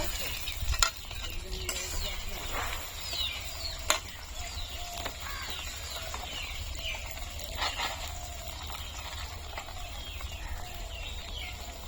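Green chilies and bay leaves dropped into hot oil for a fish and potato curry sizzle steadily, with a couple of sharp pops near the start and occasional stirring scrapes; a rooster and chickens cluck faintly in the background.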